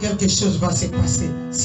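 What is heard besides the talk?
No everyday noises stand out.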